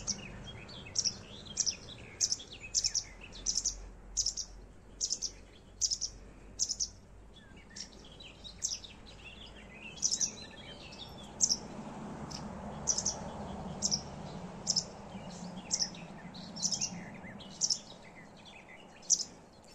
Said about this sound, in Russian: Ну, чирикает идет.